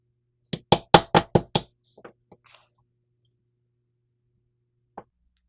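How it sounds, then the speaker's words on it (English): Taking the trigger out of a Tanfoglio TZ75 pistol produces a quick run of six sharp, close knocks in a steady rhythm, then a few faint metallic ticks and clicks, and one last isolated tap after a pause. "In the meantime, take out the trigger."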